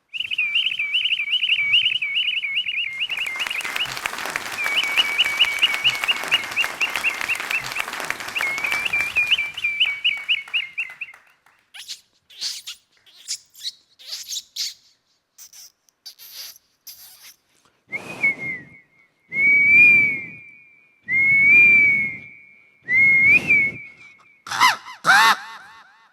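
A performer's voice imitates a series of bird calls, first a long run of rapid high warbling trills, then separate sharp chirps and whistles, loud and close, with a burst of applause in the middle.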